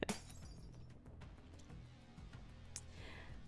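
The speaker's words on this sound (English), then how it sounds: "There's a resounding crack. It might be the sound of glass structures breaking." Glass structures cracking and shattering in the game Goddess of Victory: NIKKE, a sharp break at the start followed by scattered clinks and a later bright crack over a steady low game-music bed.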